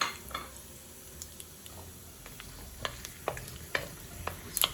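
Cumin seeds, garam masala and chilies frying in a hot pan, a quiet sizzle with scattered small pops and crackles, spoon scrapes against the pan growing more frequent toward the end.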